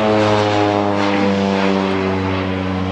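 A propeller airplane drones steadily overhead while spraying a lake for mosquitoes, its engine tone loud and continuous with strong harmonic bands throughout.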